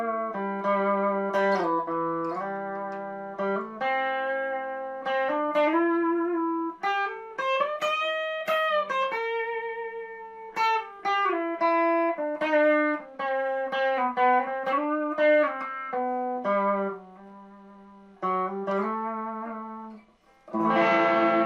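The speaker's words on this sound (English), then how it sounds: "We've got a 50 millisecond delay here." Electric guitar played through a short 50 millisecond delay with distortion switched off, a run of sustained single notes and bends with a slight doubled, chorus-like shimmer, loud and alone, ending in a brief noisy strum.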